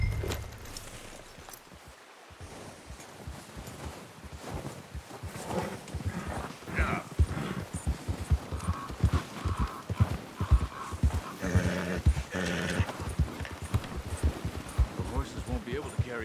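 Horses walk with irregular clip-clop hoofbeats and an occasional whinny in the video game Red Dead Redemption 2, over a soft outdoor backdrop.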